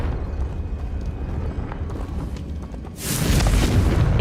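A Confringo blasting spell detonates in the Hogwarts Legacy video game: low rumbling rises, then a loud booming explosion erupts with a bright crackling burst that sustains to the end.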